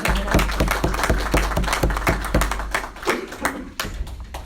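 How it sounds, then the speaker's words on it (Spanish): An audience claps at a talk honoring Dolores Cacuango, with a run of sharp, fairly close handclaps at first that thin into scattered, softer claps toward the end. "una vez más voy a pedir aplausos tanto para Leo como para Isidora"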